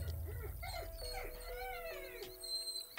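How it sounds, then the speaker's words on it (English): A puppy whimpers and howls in a series of high, wavering cries and yips that rise and fall over a low background rumble. The cries are fairly close and continue through most of the stretch. "Noisy puppy."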